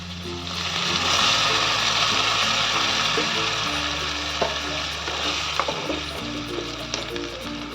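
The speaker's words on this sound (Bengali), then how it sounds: "আমি এবার এর মধ্যে একটু সামান্য জল দিয়ে দেব" Potatoes and green peas fry in hot oil as a little water goes in, bringing a loud, steady sizzle with stirring clatter and sputtering throughout, near and continuous.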